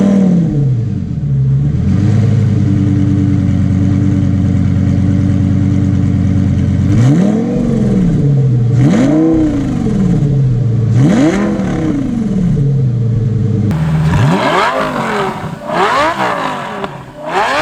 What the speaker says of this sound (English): let's get to the most exciting part, which is the drive portion, to see how the 2006 Lamborghini Gallardo drives.